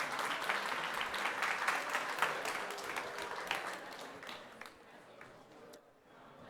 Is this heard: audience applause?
yes